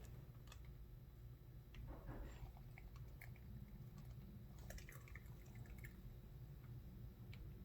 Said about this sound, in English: we're going to drip it into our funnel